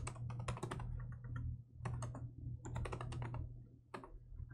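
Fingers type on a computer keyboard in quick bursts of clacking keystrokes separated by short pauses, close and clear with no talking.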